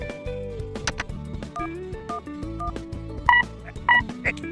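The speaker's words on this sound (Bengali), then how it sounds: "এবার বৃষ্টিকে ফোন করে সুখবরটা দিতে হবে" Cartoonish telephone dialing tones, a run of short pitched beeps over a bouncy music background, with two brighter tone pairs near the end.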